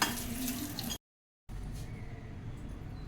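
Cashews and raisins frying in a pan for sweet jaggery vermicelli, a soft sizzle broken by a brief silent gap, then continuing faintly with a little clatter.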